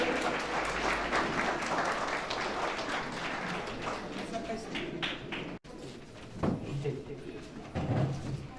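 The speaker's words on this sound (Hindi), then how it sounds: "सभी लोग खड़े होकर हमारे मुख्य अतिथि का तालियों के साथ स्वागत करें।" Steady audience applause welcoming the chief guest at a women's empowerment event, a broad continuous clapping wash with speech mixed in, briefly cut off midway before quieter rustling and voices.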